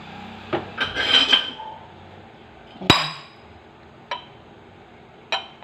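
Metal pot lid set onto a pot of guava leaf herbal drink, a cluster of clinks and scrapes followed by a few sharp separate metallic taps, close and alone.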